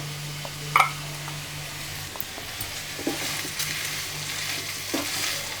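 Chopped pirandai (veld grape) sautés with salt in a pan, giving a steady soft sizzle and frying hiss with occasional light scrapes of stirring and no voices.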